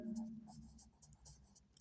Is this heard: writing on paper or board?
yes